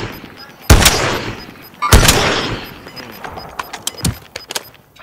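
Gunfire in Call of Duty: Modern Warfare, with two loud close shots that ring out and decay, followed by a string of quicker, fainter distant shots.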